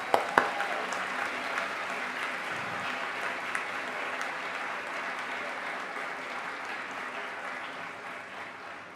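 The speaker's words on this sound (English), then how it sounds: "could we have one more round of applause for everyone?" Sustained applause fills a nursing recognition ceremony, a dense even patter of many hands clapping steadily from start to finish with a couple of sharper claps early on and no talk over it.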